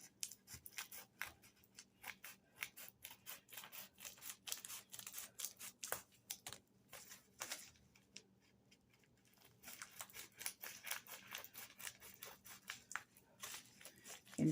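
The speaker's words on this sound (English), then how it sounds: "I should have a better pair of scissors today, but I don't" Scissors snip through package material and label backing, a quiet run of rapid crisp cuts and rustles with short pauses between bursts, close and alone without talk.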